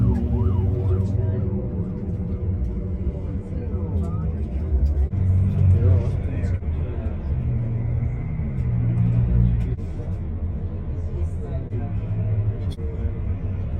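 A convoy of cars and hundreds of motorbikes sweeps past along a street in Siem Reap, Cambodia, with police leading the way: a continuous loud engine rumble and traffic roar fill the whole stretch, with a possible siren.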